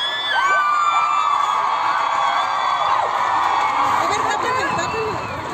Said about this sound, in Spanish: Cuando las chicas gritan, es porque por lo general están grafiteándolas para ellas.